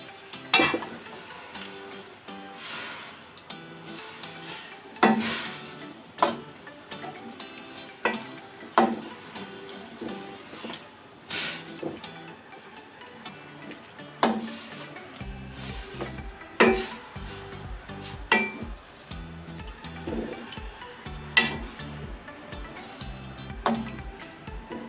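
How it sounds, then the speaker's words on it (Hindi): A spoon stirs tomatoes and salt into mutton karahi in a pot, giving off repeated clinks and scrapes at an uneven, steady pace over a soft sizzle. A low hum joins partway through. "इसे अच्छे से मिक्स करेंगे।"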